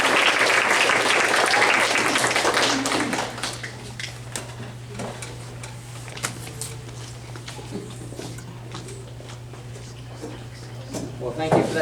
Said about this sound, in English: So if you guys could please clap for J Arnold.